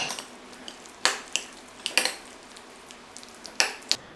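A spoon repeatedly scrapes and knocks against a bowl while mashing and mixing roasted potato and brinjal chokha, with sharp intermittent clinks over a quiet background.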